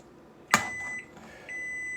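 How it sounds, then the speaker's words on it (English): A kitchen timer beeps in a home kitchen where gumbo is cooking: a sharp click or bang, then thin electronic tones that sound briefly, stop and return, fairly faint and with no talk. "That's the timer, see? Always on time."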